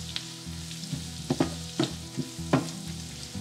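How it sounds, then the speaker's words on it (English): Chopped shallots and garlic sautéing in a pan for chicken liver pâté, a soft continuous sizzle broken by several close spatula scrapes and taps, with no talking. "Now let's saute this till the garlic loses its raw flavor"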